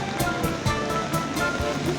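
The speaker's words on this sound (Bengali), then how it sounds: "এই যে এখান থেকে ঝর্নার পানি আসছে" Mountain spring water rushes down from the hillside at Nehru Kund in Manali, a steady, loud broadband flow that holds constant through the whole stretch, with faint voices beneath.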